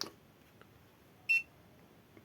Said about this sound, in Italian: il beep che sentite è dovuto al fatto che il monopattino va impostato va sbloccato con l'applicazione